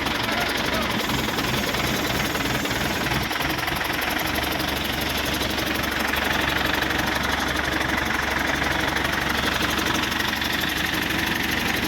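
A hydra crane engine runs steadily while a truck is unloaded at a company site in Ahmedabad, giving a continuous knocking diesel drone throughout with voices talking in the background.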